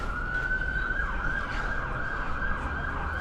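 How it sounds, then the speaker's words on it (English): A police or ambulance siren wails with a steady high tone through busy Dublin city streets, heard at moderate distance over constant traffic rumble and no talking. "Let this police or ambulance pass us."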